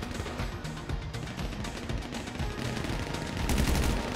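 Dense, continuous gunfire from a video game fills the clip at an even level that swells slightly near the end, with no clear gaps between shots.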